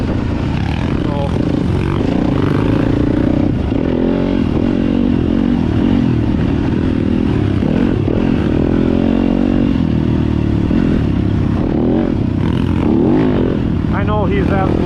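Honda CRF150F dirt bike riding a muddy trail after heavy overnight rain, its engine revving and droning loudly and close throughout with shifting pitch, while voices talk over it.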